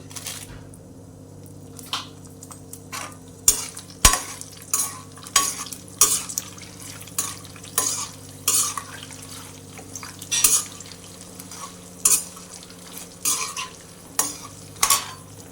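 Peanuts, chana dal and dry red chillies fry in hot oil with a constant crackling sizzle, broken by repeated scraping stirs at a brisk, fairly regular pace, close and clear.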